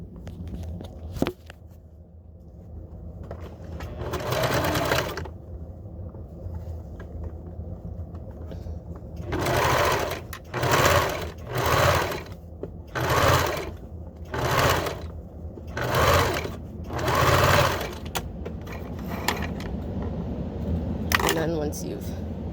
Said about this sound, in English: I have it set up under my machine like that, and I'm going to sew